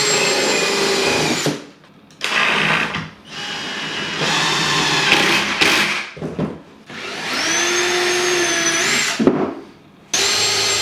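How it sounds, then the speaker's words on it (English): A power drill whines in several bursts, starting and stopping with short quiet gaps, its pitch rising and falling as it pre-drills and screws MDF panels. "I join the two side panels with glue and screws, making sure to pre-drill the edges"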